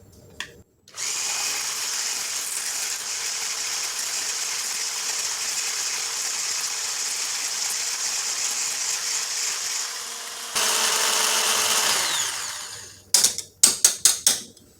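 An electric mixer churns chocolate cheesecake filling with a steady, close motor whine, shifts to a louder, higher speed near the end, then cuts off with a few short bursts.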